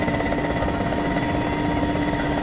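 Helicopter in the military game ArmA 2 with the ACE mod, its rotor and engine drone steady and loud throughout with no break, alone without talk.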